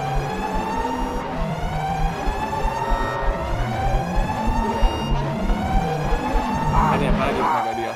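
The Siren Head monster in the horror video game Adrift in the Backrooms wails with a loud, wavering siren-like howl that rises in repeated swells over low rumbling game ambience.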